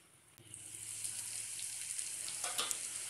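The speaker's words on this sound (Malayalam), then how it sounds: "ലോ ഫ്ലെയിമിലിട്ട് അടച്ച് വെച്ചിട്ട് വേണം ചെമ്മീൻ ഫ്രൈ ചെയ്തെടുക്കാൻ." Prawns frying in masala for a Kerala-style fry sizzle steadily in the pan after a soft clunk, with a constant hiss, a low hum and a few brief stirring scrapes near the end.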